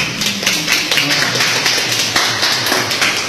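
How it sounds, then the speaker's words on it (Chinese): Students in a traditional Chinese ink and watercolor painting class applaud together, a dense, fairly loud burst of clapping that continues steadily for a few seconds. "掌声在哪里？"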